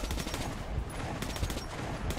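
Rapid gunfire in the video game Metro Last Light Redux, a dense run of sharp cracks and shots repeating steadily through the whole moment at moderate loudness.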